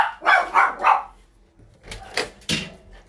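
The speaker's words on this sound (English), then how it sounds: "That's Wolfie barking" A dog barks close by: a quick run of three loud barks, then a pause, then a second burst of sharper barks.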